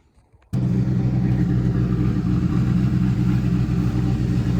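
A car fitted with a Holley Terminator X engine management system idles with a steady loud rumble that starts abruptly and holds constant.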